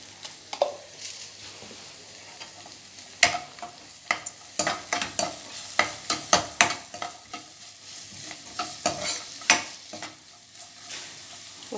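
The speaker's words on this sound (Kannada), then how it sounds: "ಒಂದು 1 ನಿಮಿಷ ಫ್ರೈ ಆಗಲಿ" Green chilies, grated ginger and peppercorns fry in a pan for a savory pongal, with steady sizzling broken by repeated sharp scrapes and stirs of a spoon against the pan, close and fairly loud, with no talking.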